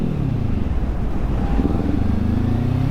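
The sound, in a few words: motorcycle coasting with clutch pulled in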